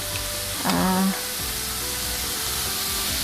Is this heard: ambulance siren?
no